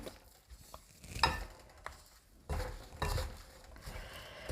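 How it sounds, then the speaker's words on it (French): A spoon stirs a thick cake batter of peanut butter, chocolate and oats, making soft, irregular scraping and squelching strokes at close range with quiet gaps between them. "je vais reprendre l'autre cuillère pour bien tout mélanger"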